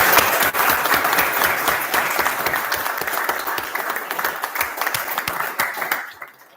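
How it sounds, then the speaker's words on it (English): A live audience at a deep-tech startup event bursts into steady, dense applause that holds strong for several seconds, then thins and fades out at the end. "Big round of applause."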